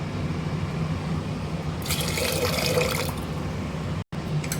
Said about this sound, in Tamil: நான் ஒரு கிளாஸு துவரம்பருப்பு எடுத்துருக்கேன். இதை கழுவிட்டு எடுத்துகிட்டு வந்துடுறேன்.